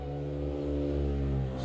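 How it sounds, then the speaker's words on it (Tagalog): A motor engine hums loudly and steadily nearby, a sustained mid-pitched drone with stacked tonal harmonics that holds for under two seconds with no talking. "grabe as tingog sa motor."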